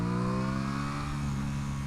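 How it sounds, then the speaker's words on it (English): An Aprilia Tuono 660 parallel-twin motorcycle revs steadily, its exhaust giving a continuous close, loud droning note with a gritty edge and no talking over it. "It's got that same sort of growl and sizzling, screaming top end in the exhaust note."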